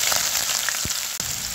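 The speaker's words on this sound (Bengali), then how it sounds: "তেলটা একটু গরম হয়ে আসলে পেঁয়াজ কুচি দিয়ে দেব" Cooking oil heating in a pot on a stove ahead of chopped onion, with a steady close hiss of fine sizzling and a couple of soft low knocks, no voices.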